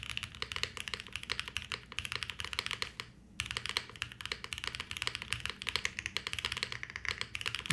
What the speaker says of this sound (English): I thought this was going to be a very like flat sounding keyboard